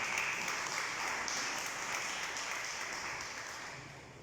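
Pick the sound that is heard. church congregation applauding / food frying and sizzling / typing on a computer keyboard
church congregation applauding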